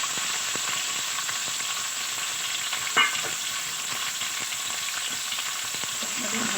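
Red and green capsicum stir-frying on a high gas flame, a steady dense sizzle throughout with one brief stirring clink near the middle, close and even.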